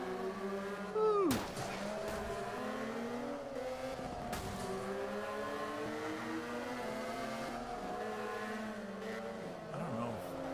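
Race car engines in the video game Forza Motorsport 5 rise and fall steadily through gear shifts, with a sharp downshift burst early on and a constant layered engine drone throughout.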